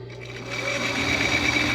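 Sewing machine stitching the strap of a ruffled strap dress, a brief close whirring run of rapid stitches that builds slightly in loudness, with no talking.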